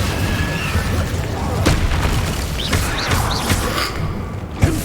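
Incendio fire spell being cast repeatedly in Hogwarts Legacy, a series of whooshing fiery bursts and thumps over a dense, steady game background.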